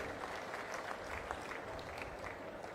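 A crowd of farmers claps loudly and steadily at an outdoor land-record distribution event, a dense, sustained wash of applause filling the whole moment with no voices standing out.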